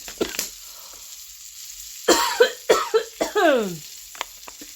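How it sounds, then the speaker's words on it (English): A short run of harsh coughs comes in quick bursts, close to the microphone, after a brief quiet moment. "Oh, I got a cough."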